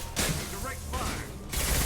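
Sustained automatic gunfire rattles in Mass Effect 2, loud close bursts that start, pause briefly and resume, with voices talking in between.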